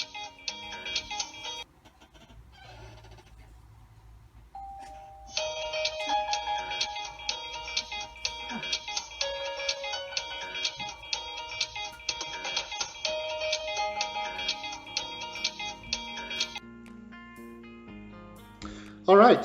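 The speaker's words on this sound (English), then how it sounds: "And now, when the front doorbell rings," A front doorbell chime for a COOAU 4MP home security camera system plays a repeating multi-tone melody, fairly loud and sustained for most of the stretch, with a voice briefly present early on.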